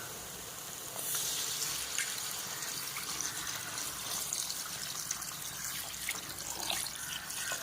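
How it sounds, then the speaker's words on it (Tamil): Water pours steadily into a pot of cooking chicken curry for several seconds, a continuous splashing stream with faint dripping and a bubbling liquid sound underneath. "இந்த மாதிரி நேரத்தில் கொஞ்சமாக தண்ணி ஊற்றி விடுவேன்"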